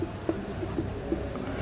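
Chalk or marker writes on a board during a maths lesson, making a few soft taps and short scratchy strokes under a quiet, steady room hiss.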